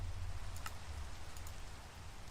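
Minecraft rain falls in a hardcore world, a faint continuous hiss with low rumble and a couple of brief patters on a surface.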